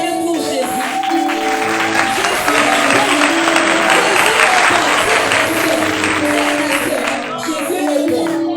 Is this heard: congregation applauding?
yes